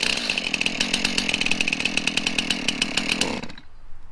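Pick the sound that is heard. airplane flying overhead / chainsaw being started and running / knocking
chainsaw being started and running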